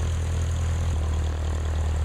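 A Tomahawk propeller aircraft engine in the Second Life game drones loud and steady, with a deep continuous rumble and a constant high whine throughout and no talking.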